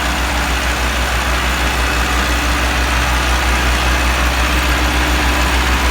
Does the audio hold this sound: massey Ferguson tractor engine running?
yes